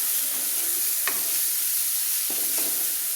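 Spices for a vegetarian chana masala sauté in a pan with a continuous close hiss and sizzle, broken by a few scraping strokes of a stirring spoon.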